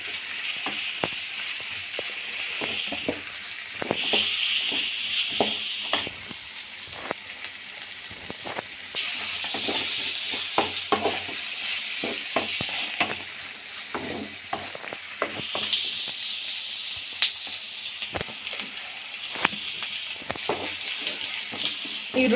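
Onions frying golden brown in oil for palak rice, a steady sizzle broken by frequent sharp clicks and scrapes of stirring, close and continuous throughout with no talking.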